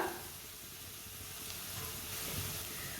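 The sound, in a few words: whole cumin and coriander seeds roasting in a pan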